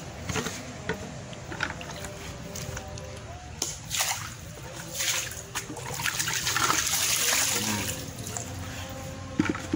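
Water running steadily into a plastic pond set up for farming silkworms, a continuous splashing trickle that swells in the middle, with faint handling noise and little talk.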